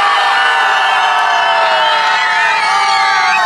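Adults and children in an outdoor crowd at a seaside harbour jazz concert shout one long held note together, loud and sustained throughout.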